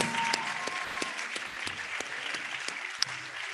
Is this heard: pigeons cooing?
no